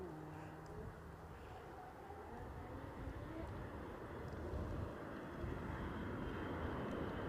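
A WestJet airliner at Edinburgh airport gives a steady, broad engine roar that holds at a moderate level throughout and swells slightly toward the end, with no voices over it.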